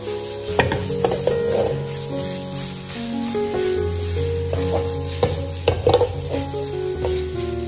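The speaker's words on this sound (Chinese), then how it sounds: "快速的翻炒均匀" Smoked dried spring bamboo shoots stir-fried in a wok with salt and oyster sauce give a continuous close sizzle, punctuated by repeated scraping and clattering strokes of the spatula against the metal.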